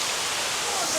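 Waterfall near Mullayanagiri peak in Chikmagalur, heard as a loud, dense, continuous rushing roar of falling water that fills the brief moment.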